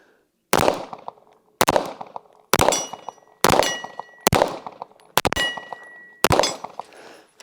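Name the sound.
gunshots hitting a steel target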